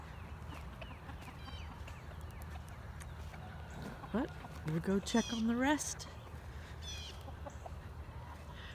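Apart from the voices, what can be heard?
chickens clucking loose near a house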